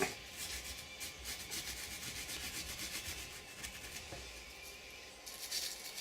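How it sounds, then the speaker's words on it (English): A small wire brush scrubs carbon buildup inside a Desert Eagle .50 AE pistol, producing a faint, steady, close-up rasping scratch with quick back-and-forth strokes throughout. "You may use your little wire brush in there and get some of the carbon buildup off."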